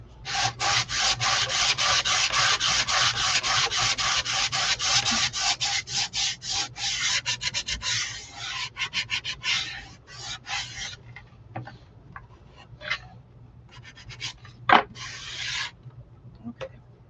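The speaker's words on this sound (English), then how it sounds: "I'm going to sand it" Hand sanding of a painted Chalk Couture piece: rapid, steady rubbing strokes, close and loud for about ten seconds, then slowing into sparser scrapes and short bursts.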